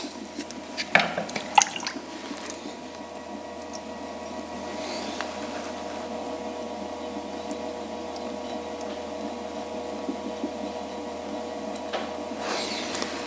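Wet squishing and dripping from a sponge soaking up slurry water inside an enclosed clay form on a pottery wheel, a steady low close-up swish with a few sharper drips near the start.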